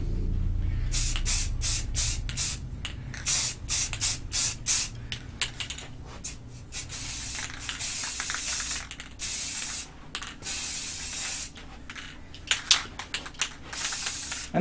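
A spray can sprays paint from a height onto a wargaming battlemat of caulk-textured terrain, giving loud hissing bursts of varying length separated by short pauses, close up and with no talk over it.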